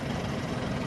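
A Mahindra tractor's engine idles steadily, a low, even rumble that holds without change for under a second, with no voices.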